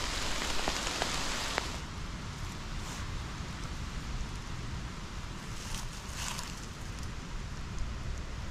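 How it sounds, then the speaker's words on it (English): Steady rain pattering on leaves and the ground in woodland, a continuous even hiss with a few brief sharper drops early on; no voices. "Raining now."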